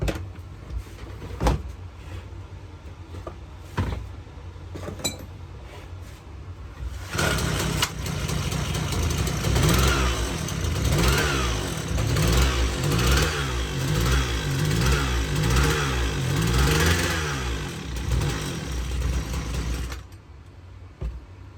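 McCulloch ErgoLite 6028 chainsaw engine running after an idle screw adjustment, a steady buzzing two-stroke drone with a wavering pitch that holds for about thirteen seconds before cutting out, preceded by a few clicks and knocks.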